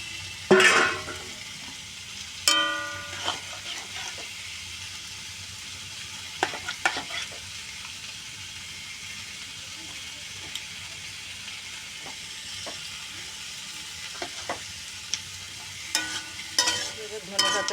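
Spicy shoting fish curry cooking in a pan with a little water added, a quiet bubbling sizzle broken by a few sharp clatters of a spoon against the pan, near and with no speech.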